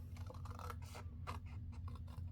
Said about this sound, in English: I'll try with my small scissors and see if I do better.